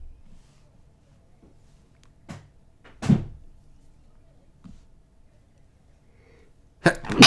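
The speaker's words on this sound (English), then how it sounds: "I sneeze." A single sharp sneeze bursts out about three seconds in, with other small bumps around it and a louder scuffling noise at the end, in an otherwise quiet room.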